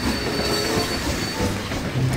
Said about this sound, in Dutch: Beweegt die stomme trein.